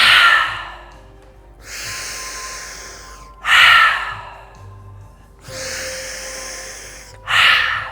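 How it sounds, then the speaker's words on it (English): A person takes three deep, slow breaths, drawing air in through the nose and letting it out through the mouth, each exhale a loud close whoosh. "Take 3 deep breaths, in through nose, out through mouth"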